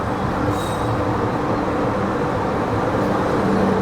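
An LHB passenger train pulling out of Trivandrum Central rumbles steadily as heard from on board, a dense continuous low roar with faint squeal-like tones above.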